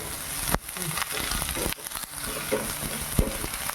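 Finely chopped onion hits a hot pan on a high gas flame for a Manchow soup, giving a steady close sizzle with stirring scrapes and a sharp clatter, while a voice speaks faintly underneath.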